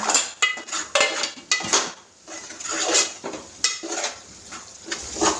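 A utensil stirs mutton masala in a pan, giving repeated metallic scrapes and clinks against the pan over a soft frying sizzle, close and irregular in rhythm.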